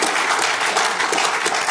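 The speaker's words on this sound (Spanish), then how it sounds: "Denle un aplauso al Señor porque Él es bueno" Church congregation applauding the Lord during a sermon, dense and loud clapping from many hands filling the space evenly without any voices.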